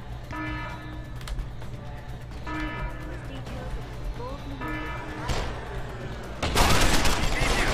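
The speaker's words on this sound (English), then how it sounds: "you shoot me with the shotgun" Shotgun fire in the video game Deus Ex: Human Revolution: a steady background of game tones and hum, then one loud, sudden blast near the end that stays harsh and noisy.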